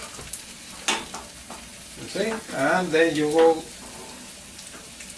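Soft, steady sizzling of butter in a frying pan for crêpes runs beneath a voice talking over it.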